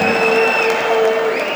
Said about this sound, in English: Let's have a very warm round of applause as well for the War Machine, Justin Westerman.